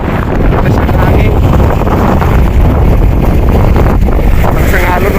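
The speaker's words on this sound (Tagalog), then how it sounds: "Lakas ng hangin." Strong wind roars across the microphone on a fishing boat at sea, a loud, continuous rushing buffet with splashing water and faint engine rumble underneath, and a voice briefly audible.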